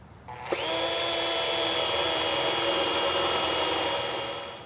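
A power drill bores a hole for a motor wire while motorized shades with a 4-inch housing are installed. Its high whine starts abruptly and holds steady and loud for several seconds before tapering off.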